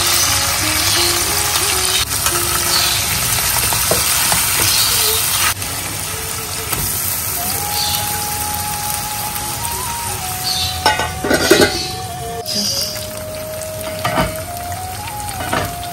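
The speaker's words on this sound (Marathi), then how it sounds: "आता आपण परतून घेणार आहे." Fish roe (gaboli) sautéing in a hot pan, a loud continuous sizzle with occasional scraping stirs and clinks.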